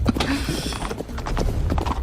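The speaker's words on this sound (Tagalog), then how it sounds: "May kabayo pa yun." Horse hooves clip-clop in a quick, steady rhythm close by, loud and continuous with some rattling tack, no talk.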